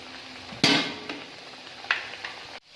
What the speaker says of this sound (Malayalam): നമുക്കിനി ചൂടായ എണ്ണയിലോട്ടേക്ക് ഇതൊന്ന് ഇട്ട് ഫ്രൈ ചെയ്തെടുക്കാം.